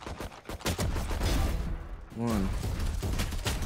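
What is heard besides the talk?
gunshots in video game Valorant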